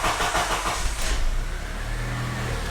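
A car engine is started during a diagnostic test: a brief cranking churn catches, then settles into a low, steady idle rumble close by.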